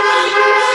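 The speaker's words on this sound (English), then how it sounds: "Let's honk three times on three." A car horn gives a single loud, steady honk in a church parking lot, blaring close and alone for under a second.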